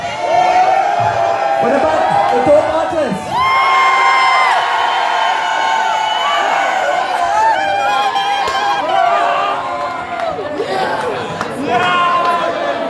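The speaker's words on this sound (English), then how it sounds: "I want to hear the crowd." A comedy show audience roars with loud cheering, whooping and shouting that fills the room throughout, while a voice speaks over the crowd.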